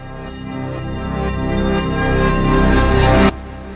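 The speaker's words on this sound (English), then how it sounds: "Let's do some of these 2-bar ones" A two-bar reversed sample from Pinkertone's Infinity Vol 1 library swells steadily with dense, tonal layers, gaining tension and rising before cutting off abruptly near the end, leaving a short silence.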